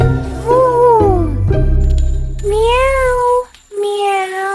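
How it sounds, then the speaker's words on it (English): A cat meows clearly and loudly, three drawn-out, rising-and-falling calls with short pauses between them, heard alone with no talking. "Cat."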